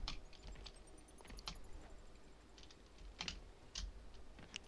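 Computer keyboard keys pressed during play of Spider-Man Remastered, a quiet scattering of irregular clicks and taps with a faint high tone in the background.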